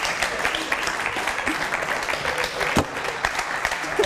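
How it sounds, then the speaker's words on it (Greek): A television studio audience breaks into steady, dense applause for a cream being presented on an evening show, with many hands clapping close together at an even level throughout. "Ένα χειροκρότημα για την κρέμα"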